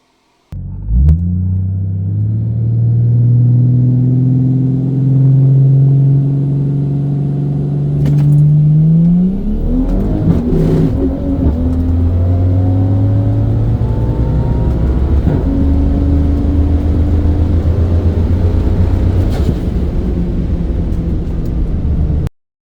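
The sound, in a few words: 1000 crank hp Barra drag car launching with ZF gearbox shifts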